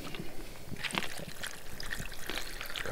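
Water poured over dry macaroni in a cooking pot, a soft continuous trickle with brief splashy accents, close and fairly quiet, with no talking.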